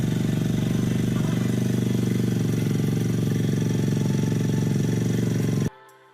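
A Royal Enfield Meteor 350 engine, freshly serviced at home, runs at a steady idle with an even low thump, loud and close, then cuts off abruptly near the end.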